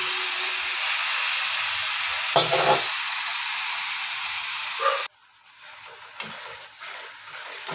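Ground spice paste for a Tangra fish curry, with turmeric and salt, sizzling steadily in a pan at close range with stirring scrapes, then the hiss drops sharply to a quiet simmer.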